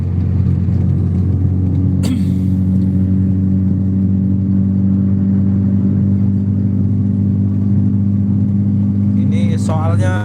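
Steady low engine rumble of road traffic on a busy street, with a continuous hum of passing cars and a brief sharp noise near the start; a voice is partly heard under the noise.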